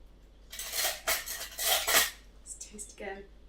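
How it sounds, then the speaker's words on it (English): A spoon stirs garlic-and-bay-infused warm cream into celeriac and potato mash in a pot, giving several close, clattering scrapes in bursts over a few seconds. "I'm just going to add a little bit and stir that through"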